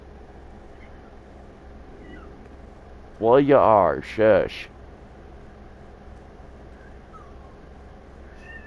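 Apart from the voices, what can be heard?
cat meowing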